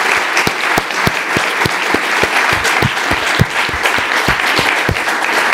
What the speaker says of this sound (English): I would ask you to clap your hands